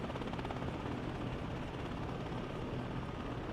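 A helicopter on a bombing run in the video game WARNO gives a steady, loud rotor drone with rapid chopping throughout, no talk.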